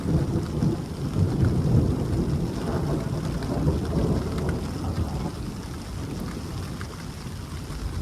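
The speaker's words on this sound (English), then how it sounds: "And the rain gets harder." Heavy rain pours steadily while low thunder rumbles through, a dense continuous wash of storm noise with no voices.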